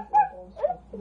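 A dog whimpers in short, high whines, two or three close, plaintive yelps in quick succession, near and clear.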